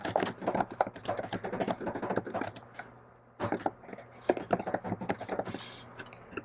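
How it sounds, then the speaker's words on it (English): Someone types an email subject on a computer keyboard, producing quick, soft, close key taps in two bursts separated by a brief pause. "You can simply type a subject,"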